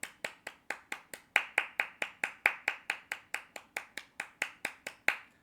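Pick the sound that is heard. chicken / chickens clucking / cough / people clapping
people clapping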